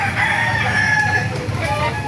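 A rooster crows loudly and nearby at a chicken market, a long drawn-out call over a steady background of other fowl and ambient noise.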